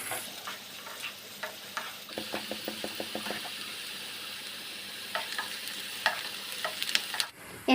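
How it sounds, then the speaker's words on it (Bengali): Onions fry in oil in a pan until golden, a soft close sizzle punctuated by a run of quick light stirring taps and scattered spatula clicks, no voices. "এখানে পেঁয়াজটা আমি সোনালি রং হওয়া পর্যন্ত ভেজে নেব।"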